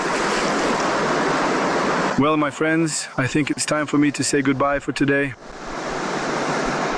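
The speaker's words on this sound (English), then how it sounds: "it's starting to rain heavily again." Heavy rain pours outdoors in the taiga as a steady, dense hiss that fills the whole clip, with someone talking over it in the middle.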